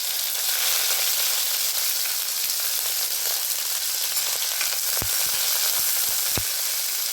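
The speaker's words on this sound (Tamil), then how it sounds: "முதல்ல காய்கறி வந்து எண்ணெய் நல்லா வதக்கிடணும்." Mixed vegetables, including potato, beans and cauliflower, sauté in hot oil with a loud, close, continuous sizzle, broken near the end by a few sharp knocks of a spoon against the pan.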